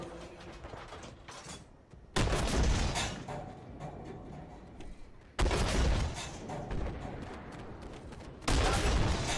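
The PzH 2000 self-propelled howitzer fires in the tank game Armored Warfare, three loud heavy booms spaced a few seconds apart, each trailing into a rumbling, mechanical din.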